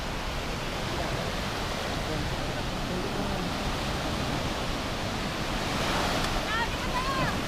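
Steady rushing surf fills the whole clip, a dense wash of ocean waves with wind noise, fairly loud and close, with faint chirps near the end.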